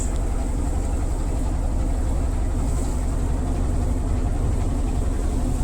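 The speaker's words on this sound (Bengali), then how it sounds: "সামনে আমাদের একটা নৌকা যাইতেছে" A boat moves across haor waters in the rain, carried by a loud, steady, low engine drone with a throbbing pulse that continues unbroken.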